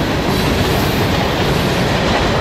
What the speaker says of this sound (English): Hopefully this train is not too long.